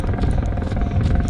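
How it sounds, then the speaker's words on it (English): A helicopter flies overhead during a high-altitude trail run, a steady loud broadband rotor rumble that persists throughout with no gaps. "Got a helicopter above."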